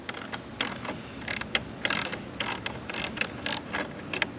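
Ratchet with a 10 mm socket loosening a bolt on a 2024 Chevrolet Silverado 2500 HD gives a string of quick, sharp mechanical clicks in short bursts, close and moderately loud, with no talking.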